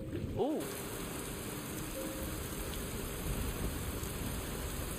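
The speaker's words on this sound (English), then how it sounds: "Never-ending rain." Steady rain falls in Skyrim, a broad continuous hiss holding at an even level throughout, with a brief low tonal rumble near the start.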